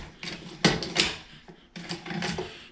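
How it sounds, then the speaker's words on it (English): The bolt of a Steyr CISM rifle is worked by hand, giving a few close metallic clacks and sliding scrapes in quick succession. "Maybe if I pull the bolt."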